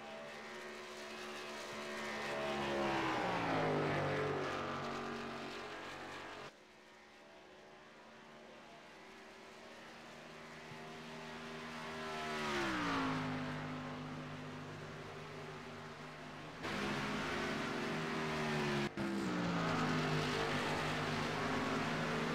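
Race cars in a Major League eSports game at Michigan roar past in loud engine sweeps, pitch rising and falling as several cars pass close by in waves, alone with no talk.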